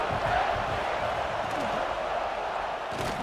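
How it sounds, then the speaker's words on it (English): Loud, dense stadium crowd roar from a college football video game at South Carolina, sustained and swelling steadily through the whole stretch, with a play-by-play commentator talking over it. "this crowd is turning it up a notch"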